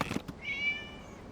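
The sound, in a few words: cat meowing in video game Genshin Impact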